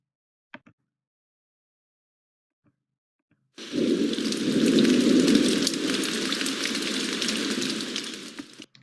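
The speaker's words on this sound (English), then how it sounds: "I can add the soundtrack of a distant thunder, and that will add a second track." Layered thunder and rain effect tracks playing together in an audio editor: after a few faint clicks, a steady broadband wash of rain with a low rumbling thunder layer comes in and holds loud through the rest.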